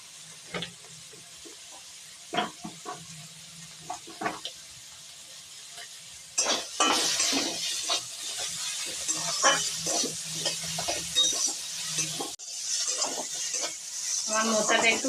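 Chopped banana flower stirred and fried in a pan for a Bengali mochar chop, with intermittent sharp scrapes and clatters at first, then a louder continuous sizzle under repeated stirring strokes.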